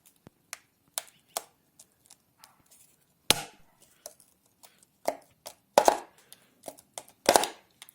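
Oil pan being pried off a Honda Civic engine, giving sparse sharp clicks and knocks of metal and tools, with a few louder cracks as it works loose, close and otherwise quiet.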